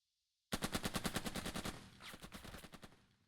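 A machine gun squad in the Burden of Command tactical video game fires a rapid, evenly paced burst of about twenty loud shots that fades toward the end, with no talk over it.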